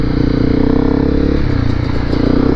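A Honda CRF250L Rally motorcycle rides along the start of an off-road trail. Its engine drones loudly and steadily at close range, with rattling clatter running through the whole stretch.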